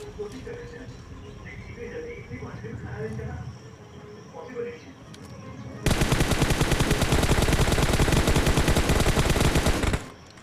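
Rapid machine gun fire from a video game erupts midway as a loud, dense burst lasting about four seconds, following quieter in-game ambience and a voice talking.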